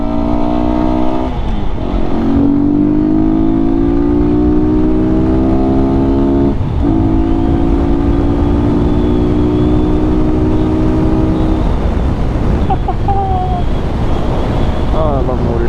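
A motorcycle revs and rides in steady, sustained engine tones that rise and shift pitch, accompanied by constant wind rush across the microphone, loud and close throughout.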